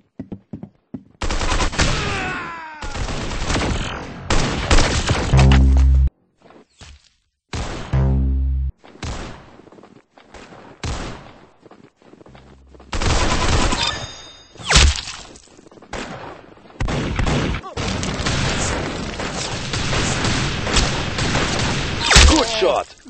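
Rapid bursts of gunfire from the Roblox shooter game Arsenal, loud and close, with volleys of shots broken by short silences and scattered metallic clangs across the stretch.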